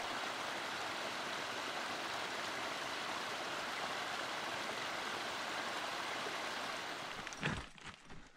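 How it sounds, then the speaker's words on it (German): A forest stream in Julma-Ölkky National Park, Finland, rushes steadily as a dense, even broadband wash for most of the stretch, with the flow breaking up and dropping near the end. "Tiefer im Wald rauscht ein Bach."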